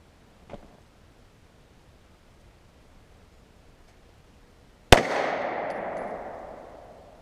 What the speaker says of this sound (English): First shot, pretty good.